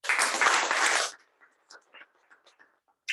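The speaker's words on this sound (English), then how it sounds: "Let's give a round of applause to ourselves for that." Brief round of applause at a hybrid club meeting, a short burst of clapping from a small group that stops abruptly after about a second, followed by faint scattered sounds and near silence.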